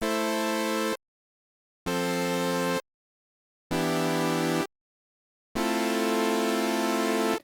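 A bright Arturia Prophet-5 V synthesizer plugin tone plays four sustained notes or chords in a regular on-off pattern, each cut cleanly with silence between.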